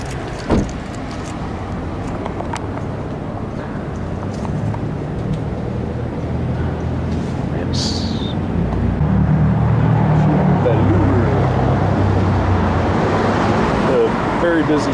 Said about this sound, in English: Very busy street, downtown Provo.